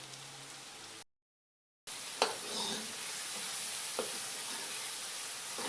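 Kofta masala frying in a handi pot, a crackling sizzle with a few spoon taps and stirring scrapes, cut by a brief second of silence near the start.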